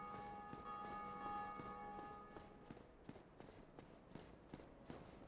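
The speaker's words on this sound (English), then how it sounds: "A lot of people be hitting those bells." A bell rings in the video game Dark Souls Remastered, a faint sustained metallic tone that fades out after about two seconds, while soft rhythmic footstep-like thuds carry on through the rest.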